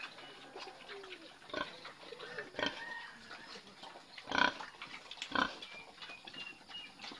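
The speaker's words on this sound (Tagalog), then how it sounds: "So, enjoy na enjoy po sila sa pagkain ng puno po ng banana ka-farmers." Fattening pigs on a farm eating banana trunks, with soft grunts and occasional louder crunching bites over a quiet background, while birds coo faintly nearby.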